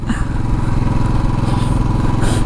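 A new Royal Enfield motorcycle rides past, its engine a steady, loud low thump with a rhythmic beat that holds throughout at close range, with no talk over it.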